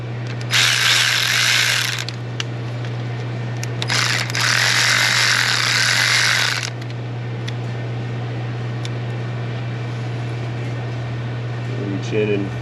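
A ratchet loosens the AC line nut on the compressor of a 2000 Nissan Pathfinder 3.3 in two close, rapid bursts of clicking, then stops, leaving a steady low electrical hum and faint shop noise.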